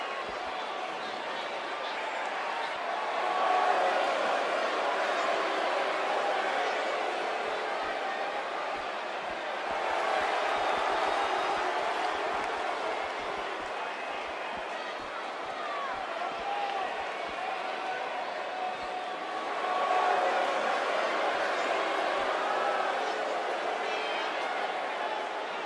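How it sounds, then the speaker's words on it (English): Arena crowd noise from the WWE 2K18 video game during a women's Fatal 4-Way match. The crowd roars and murmurs steadily, swelling in waves, while commentators talk over it. "And what about this crowd reaction, guys?"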